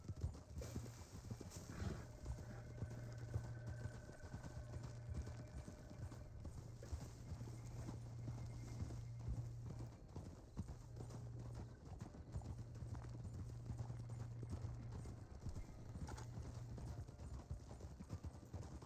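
Steady clip-clop of hooves on a hard surface, rhythmic and fairly close, with a low engine-like hum underneath and occasional faint voices.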